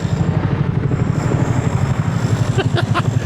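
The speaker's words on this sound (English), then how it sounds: "can you hear the helicopter and the digging all going on at the same time?" Helicopter overhead with digging nearby at the Tower of London during a Christmas visit: a loud, rhythmic low blade thumping runs throughout, joined near the end by a few sharp clinks.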